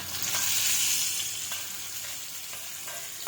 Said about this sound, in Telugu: ఈ తాలింపును మనం ముందుగానే రెడీ చేసి పెట్టుకున్న పప్పులోకి వేసేసుకుందాం